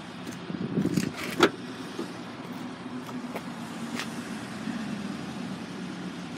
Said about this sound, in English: the back windows roll down